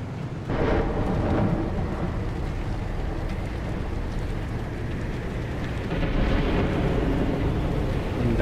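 Thunderstorm in the survival driving video game Pacific Drive: a continuous loud rumbling wash of wind and rain with low thunder rolls, swelling near the start and again toward the end, with no talk.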